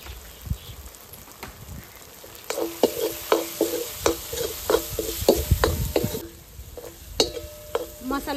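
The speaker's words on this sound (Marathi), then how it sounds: "मसाले टाकून आपलं कांदा टोमॅटो हे चांगलं परतून झालेले आहे." Onion and tomato with red chilli powder, coriander powder, garam masala, turmeric and goda masala sautéing in a pan for ragda, a steady sizzle broken by repeated spoon scrapes and clinks against the pan, close and fairly loud, no talk.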